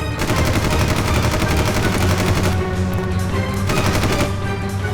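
Rapid automatic gunfire rattles in a TV crime drama shootout, loud, close bursts of machine-gun fire running almost without pause, with no speech over it.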